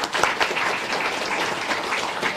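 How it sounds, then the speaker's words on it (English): Audience applause at a political launch event for a women's budget statement, steady clapping from a crowd that holds evenly for a couple of seconds without voices. "Yeah, clap."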